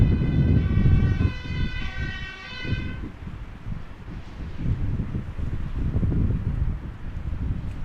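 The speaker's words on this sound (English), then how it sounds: "Do hear a fire engine." Fire engine siren wailing at Amsterdam Schiphol Airport, a steady rising-and-falling tone for a few seconds that then cuts off, leaving heavy wind buffeting the microphone and low rumbling airport noise.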